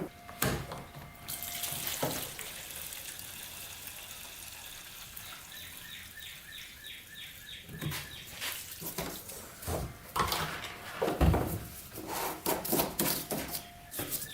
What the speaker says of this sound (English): let's get some gas in there and attempt to start it